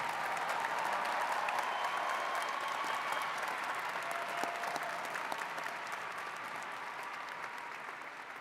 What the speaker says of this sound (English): Please give a round of applause to the master's degree graduates